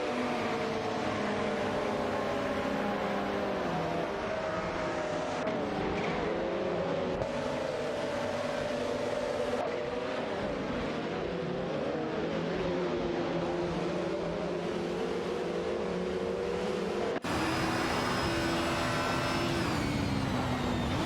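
A race car speeding away in an AI-run auto race, its engine a steady, fairly loud drone with slowly shifting pitch that holds throughout, with no talk.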